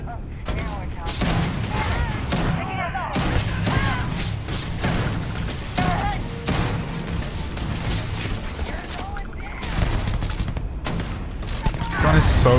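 Sustained gunfire in the Starfield game, dense overlapping bursts of loud shots mixed with mechanical clanks and thuds, continuing with little break throughout.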